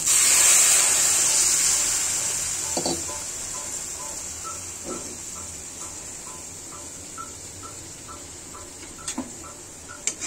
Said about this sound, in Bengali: এখন আমি আমার মাছ ভাজার কড়াই থেকে পানি দিয়ে দিব।